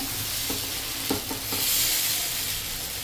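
Thin batter is spread across a hot pan over a medium gas flame, giving a steady close hiss of sizzling with a few soft scraping strokes mixed in.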